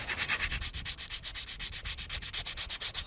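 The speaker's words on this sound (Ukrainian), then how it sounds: "наждачним папером округлимо края" Sandpaper rubs along the edges of a homemade wooden jerkbait fishing lure in quick, even back-and-forth strokes, a steady rhythmic scratching close by with no talk.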